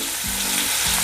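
Ginger, garlic, Byadagi chillies and curry leaves fry in a pan for horse gram sambar, a loud, steady sizzle that is close and continuous over a brief moment with no talking.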